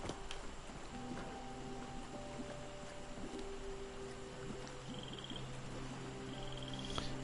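Frogs croak in the video game Fallout 76, with scattered tonal calls and chirps sounding faintly over a low, steady ambient bed with no speech.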